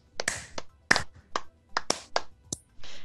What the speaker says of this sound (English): I'm just gonna give him a round of applause.